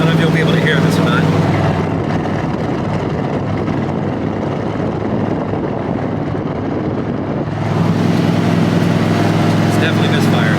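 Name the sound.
hot rod car engine misfiring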